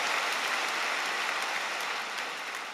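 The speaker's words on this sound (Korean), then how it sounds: "하나님께 다시 한번 영광의 박수 올려드리겠습니다" A church congregation at a Wednesday service applauds together, a dense, even wash of many hands clapping, sustained and fairly loud, fading slightly at the end.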